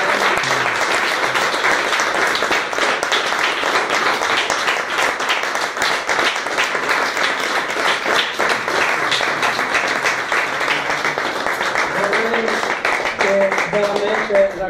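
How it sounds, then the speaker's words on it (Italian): An audience claps at an Arcigay commemorative event, dense and steady applause filling the room, with a voice briefly speaking near the end. "mi sento di accoglierla con un grandissimo applauso"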